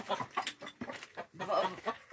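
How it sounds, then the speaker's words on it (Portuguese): A chicken caught by the leg clucks and squawks in quick, agitated bursts, close and fairly quiet, with short gaps between the cries. "Pegou a galinha aqui pela perna."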